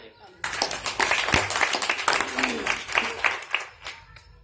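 An audience at a business meeting breaks into applause, a dense burst of clapping that carries on steadily for several seconds.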